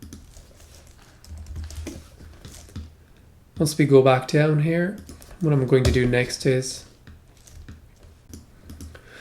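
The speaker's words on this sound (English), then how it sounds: "I'm going to start typing the overall code first" Code is typed on a computer keyboard in a scattered run of soft, quick key clicks heard near and fairly quiet, running before, between and after stretches of someone talking.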